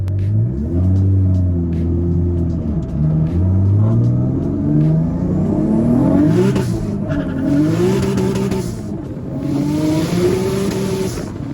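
An MK4 Toyota Supra with a 2JZ engine on flex fuel accelerates hard through several gears, its loud rising revs dropping at each shift, close and continuous.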